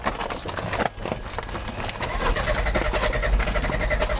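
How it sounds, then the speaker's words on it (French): A Dacia Duster engine, with AdBlue mistakenly put in its fuel tank, cranks and catches, then settles into a steady, loud running rumble close by. "tout de suite, on va démarrer ce Duster"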